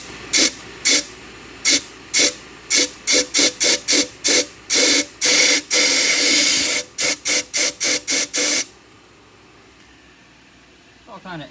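Compressed air blasts through an engine exhaust manifold and riser, arriving as a rapid run of loud, close hissing bursts with one long sustained blow in the middle, then the air cuts off to near quiet.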